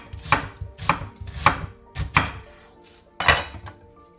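A knife chops white onion on a cutting board in five crisp, evenly spaced knocks, close and distinct, with no talking.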